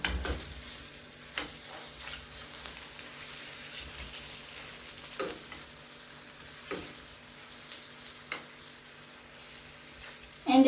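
Sausages frying in a pan give a steady, quiet sizzle with scattered soft pops and crackles throughout, and no one speaks.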